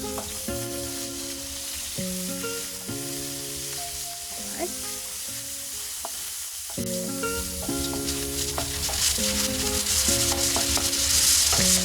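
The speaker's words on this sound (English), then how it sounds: "Now I'm going to add my onion and garlic. We're going to saute that for a few minutes." Onion and garlic sauté in a few tablespoons of hot oil in a pot, giving a steady close sizzle that grows louder toward the end, with melodic background music running underneath throughout.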